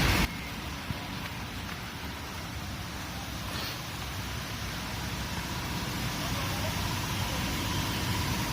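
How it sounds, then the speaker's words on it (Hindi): Steady outdoor rain falls while a sun-lit, water-logged Tata Nano is stripped and cleaned; a constant, even hiss of drops fills the scene, growing slightly louder toward the end. "ऊपर से बारिश भी आ रही है"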